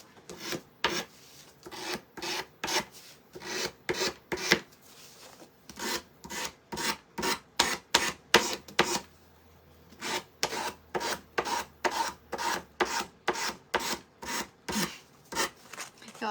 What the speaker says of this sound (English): I'm just gonna sand away a little bit of the paint.